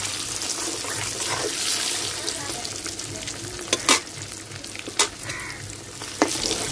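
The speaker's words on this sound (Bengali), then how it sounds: "ডিম লাল লাল করে ভাজা নিছি" Eggs frying in hot oil with turmeric and salt for a Kolkata-style chicken dak bungalow curry give a steady close sizzle, broken by a few sharper crackles and stirring scrapes, with no talking.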